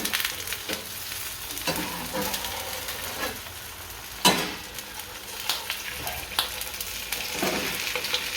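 A potato cheela sizzles in a pan, with a steady frying crackle broken by soft scrapes and one sharper clack as it is flipped.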